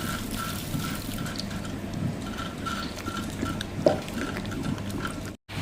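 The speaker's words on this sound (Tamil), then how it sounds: "அரைச்சி மிஷினை போட்டு விட்டோம்னா தண்ணி வந்து நான் இந்த உளுந்து ஊற வச்ச தண்ணியை தான் விடுவேன்." Soaking water from urad dal is poured into a running wet grinder, a steady liquid trickle over the machine's rhythmic churning hum, close and moderately loud with no talk.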